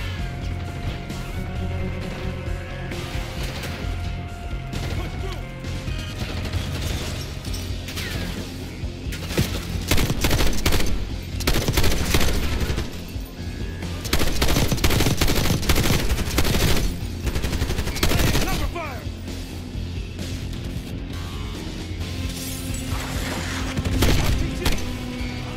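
RPK-style machine gun fire in Call of Duty Black Ops 6, dense rapid bursts of automatic shots with crashing impacts, loud and close, building into heavy fusillades mid-clip amid battlefield noise.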